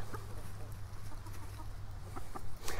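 Backyard chickens clucking in short scattered calls at moderate distance over a steady low hum and outdoor background noise.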